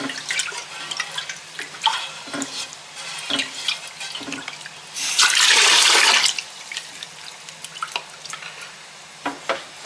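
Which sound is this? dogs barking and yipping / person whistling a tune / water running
water running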